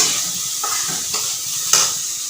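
Leftover cooked rice is lightly fried in a pan, giving a steady close sizzle broken by soft scraping stirs and one sharper clink of a spoon against the metal.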